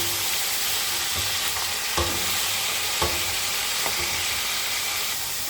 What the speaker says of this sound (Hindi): अब हम इसको फ्राई कर लेते हैं।